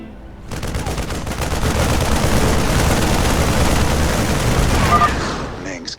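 Sustained, dense gunfire as soldiers shoot at civilians in the StarCraft II video game, a loud continuous barrage of rapid shots lasting several seconds before tapering off at the end.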